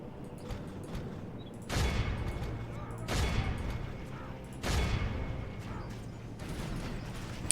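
Archer volleys in Medieval 2: Total War come as three sharp, loud bursts of massed release, evenly spaced about one and a half seconds apart, each fading into a rushing hiss over a low battlefield rumble.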